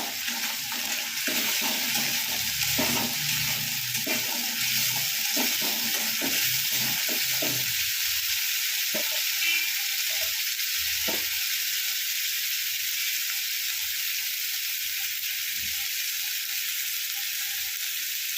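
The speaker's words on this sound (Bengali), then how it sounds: "ভালো করে নেড়ে চেড়ে নেওয়া হচ্ছে।" Bombay duck fish with Kashmiri chilli frying over a raised flame, a loud continuous hiss and sizzle with a run of clattering stirring strokes in the first half that thins out later.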